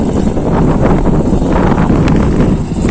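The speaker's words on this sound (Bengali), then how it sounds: "প্রচুর বাতাস হচ্ছে এখন" Strong wind buffets the microphone at a fishing harbor near Digha lined with trawlers, a loud, steady rushing roar that fills the whole stretch with no talk.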